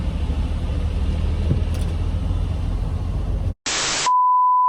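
Truck cab with a steady low engine rumble and road noise, which cuts out briefly before a burst of hiss and then a sustained, loud, steady electronic beep.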